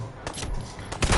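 Gunfire in Fallout 4, a couple of sharp, loud shots in quick succession with a heavier burst near the end, set against a steady game background.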